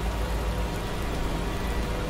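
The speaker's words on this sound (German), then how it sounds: "Heute haben wir Regen." Steady rain falls on a farm, a dense, even hiss with low rumble that runs unbroken for the whole stretch, fairly loud and close, with no voices over it.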